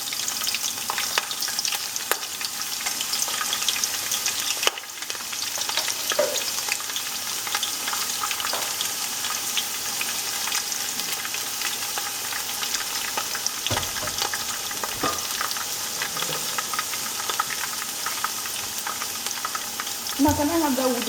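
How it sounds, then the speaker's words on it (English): Sliced onions fry in a pot at the start of a vegetable stew, making a loud continuous close sizzle with occasional stirring knocks and scrapes throughout. "So right now I'm going to go ahead and add my sliced onions to the pot."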